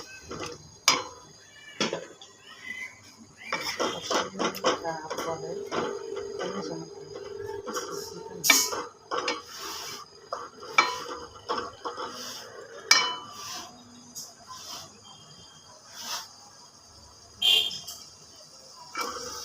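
Dried shrimp and potatoes being stirred in a cooking pot, heard as irregular close clinks and scrapes of a utensil against metal, with scattered knocks and a soft sizzle between them.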